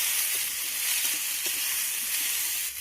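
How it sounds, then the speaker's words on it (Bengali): Potato, pumpkin and tomato fry in a pan with a steady, loud, bright sizzle that hisses continuously without pause, no voices over it. "এখন আমি এর মধ্যে দিয়ে দিলাম কেটে রাখা টমেটো, দিয়ে আবারও নেড়ে চেড়ে আমি সব কিছু ভেজে নেব।"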